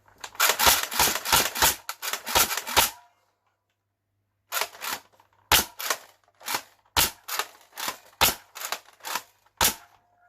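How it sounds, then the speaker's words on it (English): An X Shot Pro Series Longshot foam dart blaster fires a full magazine: a rapid run of sharp, close snapping shots, then a pause, then a second, slightly more spaced string of shots. "let's just mag dump it for the video"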